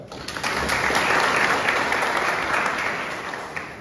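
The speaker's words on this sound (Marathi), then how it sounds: "त्यांच्यासाठी सगळ्यांनी टाळ्या वाजवा" Steady applause from a crowd gathered at a village assembly meeting about the Karanja–Revas bridge, loud and sustained throughout with no talking over it.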